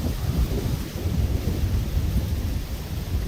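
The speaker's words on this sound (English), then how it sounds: "Seems like the wind picked back up." Steady wind roars outdoors at a deer camp during rifle season, a constant low rumbling buffet close to the microphone with no pauses.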